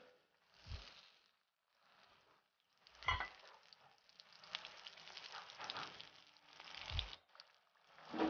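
Stuffed kakrol (bitter gourd) fries in a pan over low heat. A faint, steady sizzle is broken by a few soft thumps and scraping sounds as the pieces are turned.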